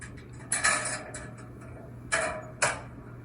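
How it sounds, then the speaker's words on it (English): Mechanical clunks and rattling bursts in a song, like a vending machine dispensing: four or five short, sharp clattering hits spaced irregularly over a low steady hum. "Sounds like a vending machine."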